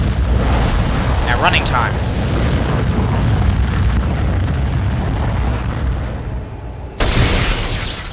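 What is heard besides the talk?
fire explosion in the video game Dead Space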